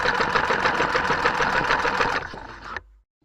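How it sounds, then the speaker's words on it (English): A sewing machine stitches a two-piece waistband for workwear shorts, running steadily with a close, rapid mechanical whir that slows briefly near the end before stopping into silence. "we're going to be sewing our two-piece waistband from our Workwear short"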